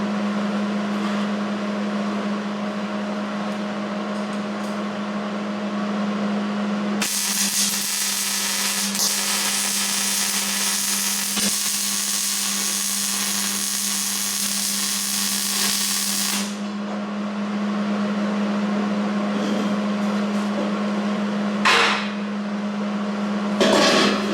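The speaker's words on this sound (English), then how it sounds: "I'm trying to weld up underneath" Welding rebar to build a tomato cage, heard as a loud, steady hiss and crackle lasting about ten seconds over a constant electrical hum, followed by a brief sharp burst near the end.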